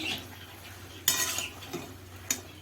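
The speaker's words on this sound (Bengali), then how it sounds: "আবারও নেড়ে নিচ্ছি।" Paneer curry with whisked sour yogurt stirred in a pan over low heat, a few sharp spoon scrapes and clinks against the metal over a faint sizzle, with a louder burst of scraping near the middle.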